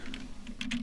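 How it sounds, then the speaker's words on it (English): Typing on a computer keyboard during a live character-rigging session at a desk: two or three quick clusters of light keystroke clicks over a steady low electrical hum, with no talking. "typing is really not as fast as I'm used to"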